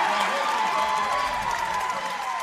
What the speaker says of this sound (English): That gets the Tamworth faithful cheering